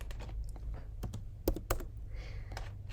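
Keys tapped on a computer keyboard while a number is entered, a quiet run of irregular clicks with a couple of sharper keystrokes, close by and heard alone.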